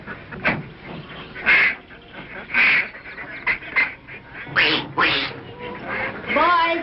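A flock of many ducks quacks in overlapping bursts, loud and close, with a voice talking over them now and then.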